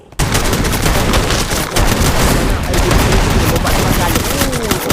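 Sustained gunfire from a battle-royale style esports match, continuous loud overlapping shots and bursts filling the whole stretch, with a commentator speaking over the barrage.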